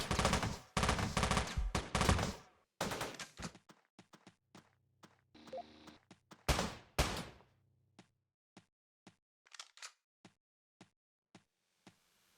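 Bursts of rapid turret gunfire in the pixel shooter Teleglitch, loud volleys first, then thinning into evenly spaced single shots that fade toward the end.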